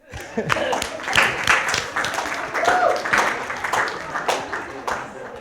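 Audience at a church service cheering and applauding, a continuous wash of clapping and voices that swells and dips for several seconds, loud and close, with talk mixed in.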